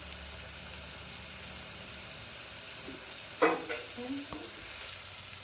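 Masala of chili powder, salt and turmeric frying in a pan while being stirred: a steady bright sizzle throughout, with a few scraping clinks of a spoon partway through.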